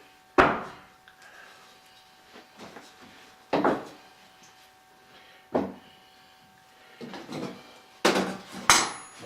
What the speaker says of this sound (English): we're setting out some little pieces of 2x4. All that's going to do is carry the plywood.